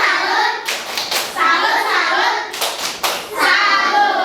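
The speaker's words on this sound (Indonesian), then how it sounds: "Oke, tepuk tangan untuk kelompok 1." Children in a classroom clap their hands together in short bursts, a dense patter of claps rising and falling with brief pauses, while a voice and adult speech mix faintly among the applause.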